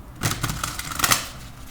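A single card drawn from an Animal Spirit Guide oracle deck gives a brief flurry of close, dry card slides and soft taps lasting about a second.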